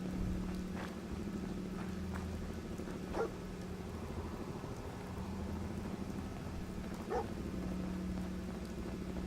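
A dog in the Fallout 4 video game barks a few scattered times at moderate distance over a steady low droning hum and background noise.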